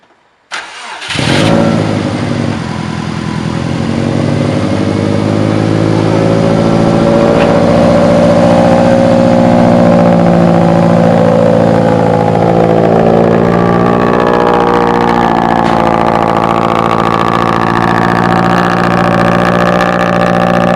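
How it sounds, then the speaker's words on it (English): A Subaru STI with a swapped exhaust cranks and fires up from cold, then settles into a loud, steady, rumbling idle that holds close and continuous for about twenty seconds. "Cold start on the car."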